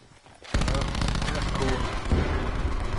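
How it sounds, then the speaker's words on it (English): A sudden burst of dense Call of Duty gunfire erupts and continues as a sustained loud barrage of overlapping shots, with someone talking over it. "They're shooting at your teammate"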